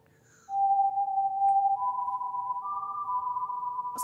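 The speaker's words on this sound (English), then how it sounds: "Can you stop whistling?" A steady, sustained whistle holds a pure tone in an animated Godzilla episode, then rises in pitch by steps to a higher held note, loud and close, with no talking.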